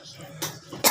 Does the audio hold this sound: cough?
yes